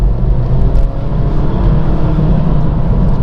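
A car engine pulls steadily in second gear under balanced throttle, a constant close, loud drone with slight rises in revs and no voice.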